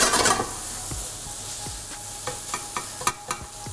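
Seasoned food sizzles loudly in a pan while a utensil stirs and scrapes it in a series of sharp, close taps and scrapes, with no talking.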